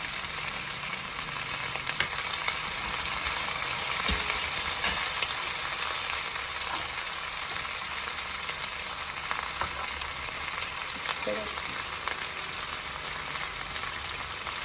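Chopped onions and green chillies frying in a pan for a carrot and coconut fry, a steady dense sizzle that holds evenly throughout, close and fairly loud, with no talking.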